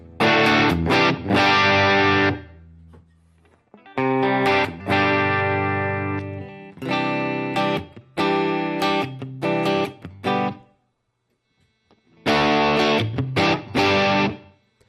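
Distorted electric guitar through a Helix amp modeler with Dumble amp sounds, playing chunky chords in several phrases separated by short pauses, loud and up close.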